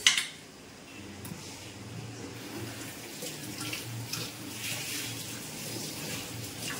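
A kitchen utensil being scrubbed and rinsed under a running tap, a steady wash of flowing water with soft scraping and handling noises layered on top throughout.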